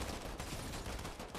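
Rapid gunfire from a multiplayer shooter video game, dense bursts of shots filling the whole moment at moderate loudness with no talk over it.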